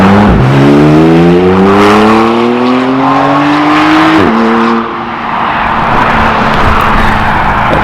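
A Porsche GT3 sports car revs hard and close, its engine note climbing steeply through two rising pulls with a brief drop between, then settling into a loud sustained drone.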